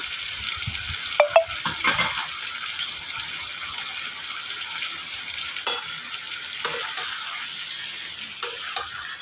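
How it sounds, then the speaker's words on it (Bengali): Potatoes being stirred with spices in a frying pan, a steady sizzle of frying under scattered scraping strokes of a spatula, close and moderately loud, with no talking. "মশলার সাথে আলুগুলো নাড়তে নাড়তে খেয়াল রাখতে হবে আলুগুলো যেন তলায় না ধরে যায়"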